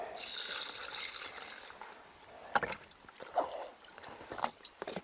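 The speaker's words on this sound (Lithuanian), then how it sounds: "Užtraukiu tinkliukų, kad neišbyrėtų, ir užpilu vandens." Water poured into a small container of Madix fishing bait pellets with a mesh drawn over the top, for a Manuowell baiting boat; a bright pouring splash opens the clip, followed by lighter trickling and handling noises.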